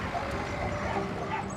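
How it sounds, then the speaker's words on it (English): Several dogs barking at a delivery truck climbing a hill in Tennessee, heard faint and distant through steady outdoor noise and engine rumble. "where dogs are barking at this guy's truck as it goes up the hill."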